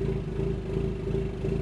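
Ford Mustang EcoBoost with a ghost cam tune idling, a low steady rumble with a faint rhythmic lope and a thin whine layered above, even and close throughout.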